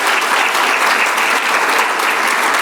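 Steady, dense clapping from a conference audience at a Latin American health summit, thanking a presenter, sustained and close throughout.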